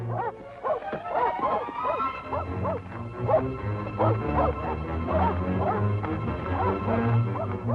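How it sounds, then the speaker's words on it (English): Several dogs bark and yelp excitedly as they are let loose to give chase in a 1947 Western film, with rapid overlapping barks and whimpers over a steady low rumble, close and continuous throughout. "Turn the dogs loose."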